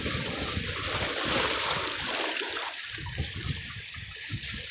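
Wooden paddle splashing in open sea water from a small fishing boat off Joroan, Tiwi, Albay, giving repeated close wet strokes over steady wave and water noise.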